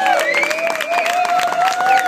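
Applause and cheering from a live concert audience for a band at the State X New Forms festival in Paard, Den Haag: steady dense clapping with whistles and shouts running through the whole stretch.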